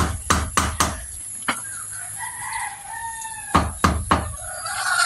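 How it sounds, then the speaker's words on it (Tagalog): Chickens cluck and a rooster crows nearby, mixed with several sharp knocks that come in quick clusters. "Papatuka ng manok."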